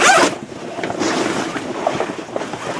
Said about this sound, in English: Zip these together.